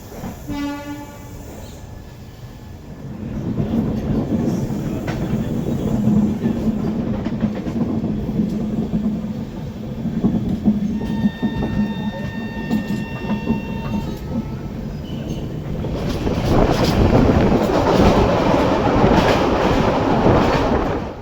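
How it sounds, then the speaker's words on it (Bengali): The Howrah–Varanasi Amrit Bharat Express departs Gaya station: a horn sounds briefly, then the train rolls steadily with a rumbling clatter that grows louder, and another horn blast cuts through midway. "ট্রেন ছাড়লো গয়া স্টেশন"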